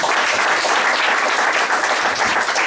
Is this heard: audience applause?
yes